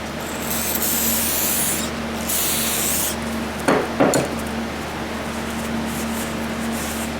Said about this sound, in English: Wipe it clean, spray it.